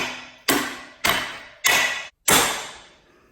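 The ball end of a hammer strikes the axle of a dirt bike during a sprocket change, giving four loud, sharp metallic blows about half a second apart, each ringing briefly before the next.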